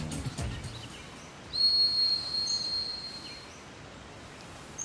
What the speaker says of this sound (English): Wonder who could be doing that whistle right now.